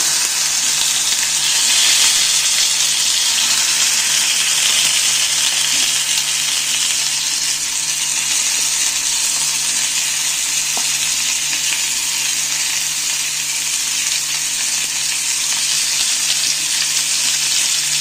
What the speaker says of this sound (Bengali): টমেটোগুলো এইভাবে আমি হালকা আঁচে চাপা দিয়ে দিয়ে ভাজবো।